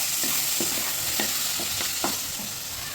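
Chilli and tomato sauces are stirred together in a frying pan, with a utensil scraping in a handful of close strokes over a steady low sizzle.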